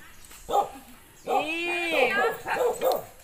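A dog barks and yips at close range with whining, whimpering tones between the short barks. A person talks alongside it.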